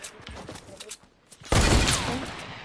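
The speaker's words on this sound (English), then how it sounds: "I could hear the bullets" Video-game gunfire bursts out loud and sudden partway through, a dense crackling volley following quieter rustling and faint voices.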